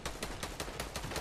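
Rapid gunfire in OG Fortnite during a Season 7 tournament: a quick, even burst of about seven sharp shots in just over a second, fairly faint and distant, with no talk over it.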